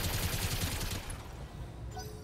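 A battle mech in BattleTech fires its weapons in a rapid volley of heavy thumping shots for about a second, followed by a lingering rumble and a few faint high-pitched clinks.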